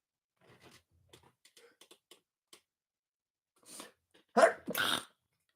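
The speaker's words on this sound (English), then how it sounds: "I got a little sneezing fit there." A few quiet sniffs and breaths, then a quick burst of two or three loud, explosive sneezes close to the mic.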